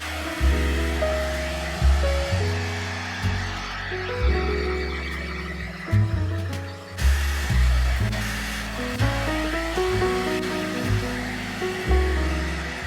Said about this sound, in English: let's blow dry this.